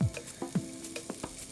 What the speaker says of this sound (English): Nice and sizzling, that's what you want to hear.